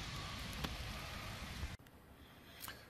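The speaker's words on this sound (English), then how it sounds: "Well, the rain got us again." Steady rain falls at a deer camp outdoors, a soft continuous hiss with scattered drops, faint and even, cutting off abruptly partway through to a quieter background.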